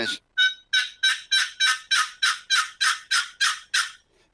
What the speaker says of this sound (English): Here's the real hen box call